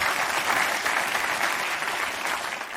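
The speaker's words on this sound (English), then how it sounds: "Round of applause for our 2 volunteers" An audience claps for two volunteers as they come up to the microphones, a dense, even burst of applause from a large crowd held at a steady level throughout.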